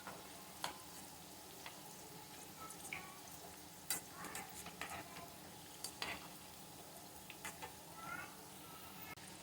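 A second batch of crispy spinach and potato pakoras frying in hot oil, with a steady bubbling sizzle and occasional sharp crackles and pops throughout.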